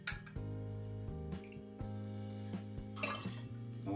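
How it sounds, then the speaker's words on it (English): Liquor is poured into a can while mixing an iced tea cocktail at a bar mat, a soft trickle and drip with a few light metallic clinks, faint and close over a steady low hum, with no talking. "Oh, I've just poured it into the can as well."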